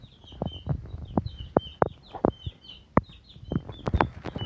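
Month-old chicks and a rooster, with large white birds among them, cluck in a coop. Short, uneven calls come in quick succession at close range, with no voices.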